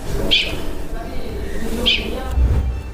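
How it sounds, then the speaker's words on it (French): An alpine ibex gives two short, sharp, high-pitched whistle-like calls about a second and a half apart, over a low, murmuring background. "Ah, le voilà le bouquetin."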